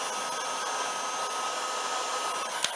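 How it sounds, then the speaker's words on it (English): A heat gun blows hot air to melt 3D-printed plastic, a steady close whooshing roar that holds level throughout, with a small knock near the end. "I think I have to do something tricky with the heat gun. Warm this up so it melts,"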